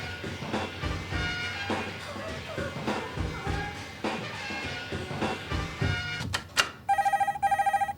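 Telephone ringing on a New Zealand TV soap set, several bright electronic rings in quick pairs that cut in sharply at the end, after muffled movement and talk earlier.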